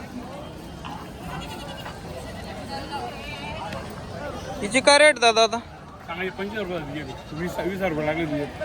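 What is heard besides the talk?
goats bleating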